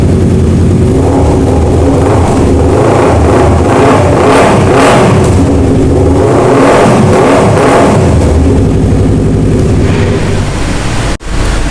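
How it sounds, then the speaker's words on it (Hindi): A motorcycle fitted with an Akrapovic matte black exhaust revs during a sound check, the engine rising and falling in loud, close, continuous roaring swells for several seconds, ending with an abrupt cut. "इट्स द सेम एग्जॉस्ट, बस इसके डिज़ाइन थोड़ा डिफरेंट है। इसकी भी मैं आपको साउंड चेक करा देता"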